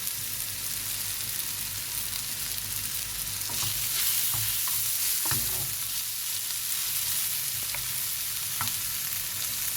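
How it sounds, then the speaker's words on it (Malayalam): Chicken pieces, including wings, fry in hot browned masala for a capsicum biryani, giving a continuous close sizzle with scattered scraping and stirring clatters from the pan, and no talking. "നമുക്കിനിയിപ്പോൾ അതിലേക്ക് ചിക്കൻ ഇട്ട് കൊടുക്കണം."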